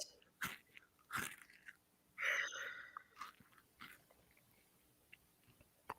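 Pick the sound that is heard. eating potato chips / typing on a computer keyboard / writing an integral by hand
eating potato chips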